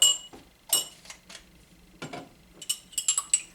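Spoon or whisk stirring rennet into about 10 litres of milk in a pot for kefir whey and cheese, giving a few light, scattered clinks and scrapes with quiet gaps between them, close by and with no talking.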